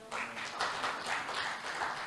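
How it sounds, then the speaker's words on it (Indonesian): A church congregation applauds during a worship service, a soft, dense patter of many hands clapping in a large room, fairly faint and steady for a couple of seconds. "Tepuk tangan boleh?"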